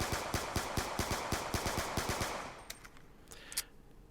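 Rapid-fire video game gunfire from a controller trigger macro, a string of about a dozen evenly spaced sharp shots that slightly falter in rhythm, then cut off, leaving a quiet tail with a few faint clicks.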